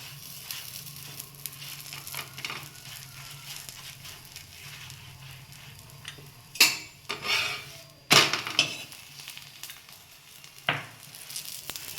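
Aloo paratha sizzles in a pan with ghee, a faint steady crackle broken by several sharp, louder bursts of hissing spatter.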